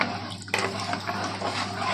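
Water is poured into a simmering tomato sauce for Egyptian koshari, a steady close splashing that starts abruptly about halfway through and keeps going, with no talking.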